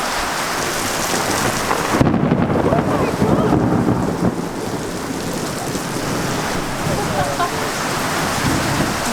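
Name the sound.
rain falling on an outdoor shower area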